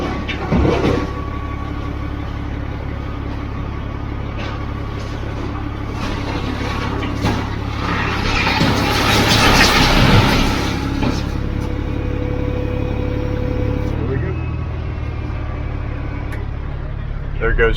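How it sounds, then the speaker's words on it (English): A truck engine idles and then revs as it pulls away at a job site after its PTO is worked, a steady low rumble building and fading, with voices talking over it. "There goes Steve with the truck."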